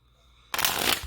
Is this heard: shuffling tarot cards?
yes